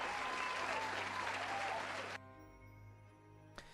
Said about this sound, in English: Let's do a little group applause.